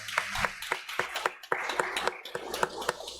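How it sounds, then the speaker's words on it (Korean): A church congregation claps together during a Sunday worship service, a run of sharp handclaps in an uneven rhythm, fairly close and steady, with faint voices mixed in. "우리 하나님께 영광의 박수 올립니다."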